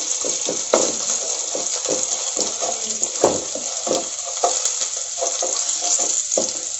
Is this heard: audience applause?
no